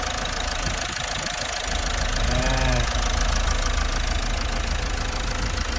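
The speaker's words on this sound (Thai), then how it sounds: "ฟังเสียงเครื่องเงียบกิิบเลยนะครับ" A 2021 Isuzu 1.9 automatic pickup, just back from an intake cleaning, idles smoothly with a steady, even diesel hum. The knock is low and even, close up, with a brief faint voice partway through.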